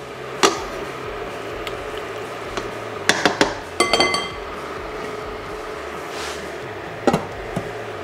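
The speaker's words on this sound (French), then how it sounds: "Je vais mettre le couvercle." A lid set on a pan of leeks simmering over very low heat, heard as a few close metallic clinks and knocks of cookware against a steady quiet background hiss.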